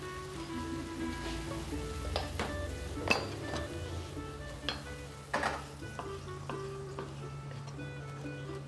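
Sliced mushrooms fry in a pan with a steady sizzle, while a utensil stirs and clinks against the cookware in scattered knocks; no talk.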